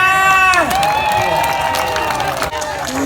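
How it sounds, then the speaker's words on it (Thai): An audience applauds and cheers at a stage celebration for a Thai music troupe, giving a loud, continuous mix of clapping, shouts and whoops, with an amplified voice and lingering music tones underneath. "เอาเสียงปรบมือนะ"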